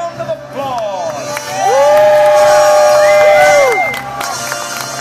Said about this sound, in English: as the onlookers give you one last round of applause